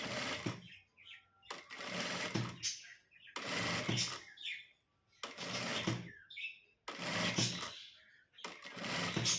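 A domestic sewing machine stitches piping onto a blouse in five or six short whirring bursts separated by pauses, close and fairly loud.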